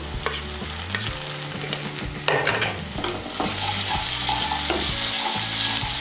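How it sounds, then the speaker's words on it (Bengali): A paste of ginger, garlic and green chili fries in oil, making a bright crackling sizzle with scraping stirs, then a fuller, louder hiss for the second half. "আদা বাটা, রসুন বাটার কাঁচা লঙ্কা বাটাটাকে তেলের সঙ্গে মিশিয়ে নেব।"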